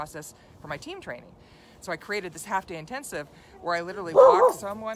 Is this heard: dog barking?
yes